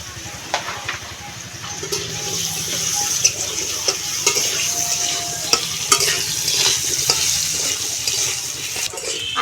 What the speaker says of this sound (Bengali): সেই আলুগুলো তেলের মধ্যে দিয়ে ভালো করে নেড়ে চেড়ে ভেজে নেব।